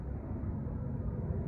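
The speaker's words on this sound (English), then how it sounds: "excuse the airplane noise. I live near an airport." A low, steady rumble of an airplane passing overhead near an airport, continuous and fairly distant, with no voices.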